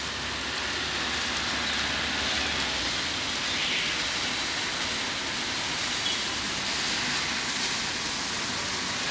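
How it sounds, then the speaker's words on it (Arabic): Steady rain falls on the pavement of Tahrir Square in Larache, a dense continuous hiss at an even level with no pauses and no voices. "رجعت امطار الخير."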